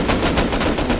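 Rapid gunfire in the video game Rust, aimed at a lock on a cupboard, sounds as a dense, loud, continuous burst of close shots with no talk.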